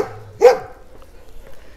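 A dog walking in deep, icy snow outdoors in winter gives a single short bark at moderate distance, followed by quiet outdoor ambience.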